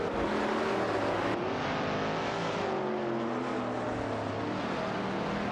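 Engines of racing cars in a video game race, a TVR Griffith 200 and a De Tomaso among them, drone and rev in layered tones with a shift partway through, moderately loud and continuous with no talk.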